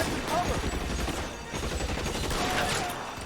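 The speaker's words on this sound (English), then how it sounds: "These guys have a lot of ammo to waste." Continuous gunfire in the video game LA Noire: dense, overlapping automatic shots and rattling bursts that barely let up for a few seconds.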